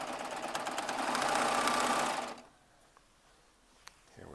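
A Baby Lock Triumph serger stitches a strip of fabric in a rapid, even mechanical chatter for about two seconds, then stops abruptly, leaving near silence with a faint click.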